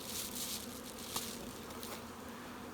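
Honeybees buzz steadily around a hive in an outdoor beeyard, a continuous hum of many insects close by, with one brief sharp knock partway through and no talking.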